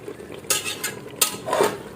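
Chicken biryani is stirred and mixed in a pot, with a few scraping, clinking spoon strokes against the metal standing out over a low background hum.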